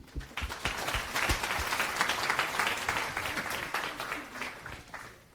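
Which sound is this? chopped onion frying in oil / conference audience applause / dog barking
conference audience applause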